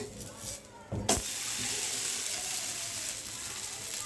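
An oats dosa flipped on a hot pan: a sharp clatter, then a steady, loud sizzle that hisses on alone without any voices.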